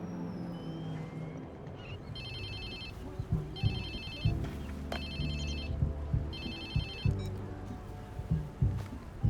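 A phone rings in the Watch Dogs 2 game, sounding four evenly spaced electronic trill bursts over rumbling traffic and engine noise, with thumps in between.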